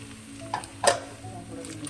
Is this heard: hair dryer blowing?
no